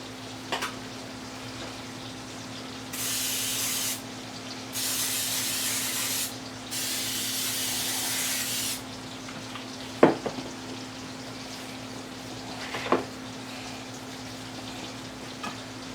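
Cooking spray hisses onto a bread pan in three steady bursts, each lasting about a second, with a couple of sharp clinks afterward and a low hum underneath.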